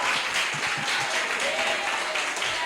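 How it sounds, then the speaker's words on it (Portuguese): A church congregation applauds during a sermon, producing a dense, even wash of clapping at moderate volume that fills the whole stretch without pause. "Se você crê, aplauda Jesus."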